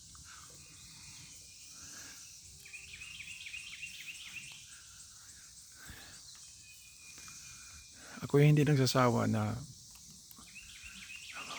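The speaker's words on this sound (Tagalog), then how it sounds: "mapakinggan yung mga tunog ng ibon at tunog ng mga crickets" Crickets and birds on a countryside morning: a steady, thin insect hiss with faint scattered chirps runs quietly beneath someone talking almost the whole time, plus a brief louder burst near the end.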